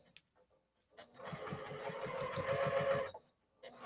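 A sewing machine stitches across a seam joining fat quarters of fabric, a steady close whirring run of about two seconds, starting and stopping cleanly between brief quiet pauses.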